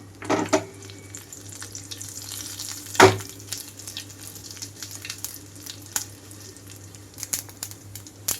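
Quiet, steady sizzle of tempering seeds and dried red chilies frying in oil, with a few sharp pops and clinks, one louder clatter near the middle.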